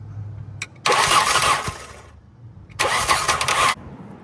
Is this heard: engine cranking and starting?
yes